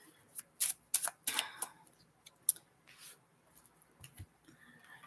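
Tarot cards are drawn from a deck and shuffled in a handful of quick, crisp slides and flicks, close and fairly faint, with soft handling noise between them.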